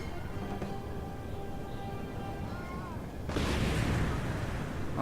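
Grand Battery artillery firing in Napoleon: Total War, a faint rumble first, then a broad loud burst of cannon fire roaring out over the final seconds.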